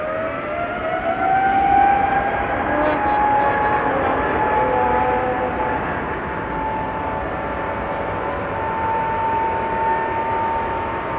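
A Boeing 777 at Amsterdam Schiphol Airport gives off a loud, sustained engine whine and roar nearby, with steady tonal hums shifting slowly in pitch and a faint clicking midway.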